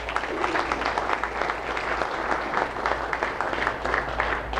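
A room of attendees at a mayors' partnership event in Pembroke Pines gives a round of applause for Mayor Ortiz, steady dense clapping that carries evenly through the whole stretch.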